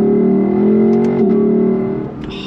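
A Lexus LC 500's deep, throaty V8 engine revs steadily up close, its tone rising and dipping slightly before easing off.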